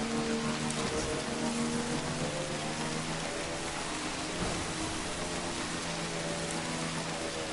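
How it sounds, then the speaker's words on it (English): Steady rainfall from the video game Death Stranding hisses evenly throughout at a moderate, distant level, with faint tonal game ambience humming underneath and no speech. "You're not scared of the rain."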